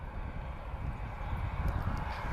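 Airbus A321neo airliner arriving at Lisbon Airport, a loud broad jet engine roar that holds steady and swells slightly, with some wind rumble and no voices.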